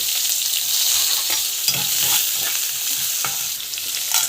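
Curry leaves and green chillies frying in hot oil with mustard seeds, cumin and onion, a loud, continuous sizzle broken by occasional stirring scrapes.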